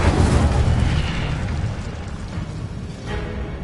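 A fire spell cast in Hogwarts Legacy, a broad, loud roaring whoosh of flame that swells at once and rumbles steadily, fading slightly toward the end.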